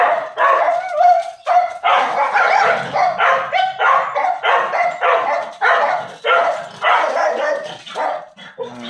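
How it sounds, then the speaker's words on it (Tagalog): A dog barks repeatedly and loudly nearby, a rapid series of sharp yappy barks with occasional whining tones, no talking. "may aso na nakawala."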